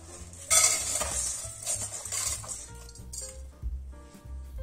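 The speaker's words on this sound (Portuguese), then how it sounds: "eu vou colocar aqui na panela uma xícara de arroz lavado." Washed rice is poured into a cooking pot for a sweet rice dessert, giving a loud grainy rush at first and then lighter scattered rattling and clinks of grains against the pan. It sounds close, with no talking.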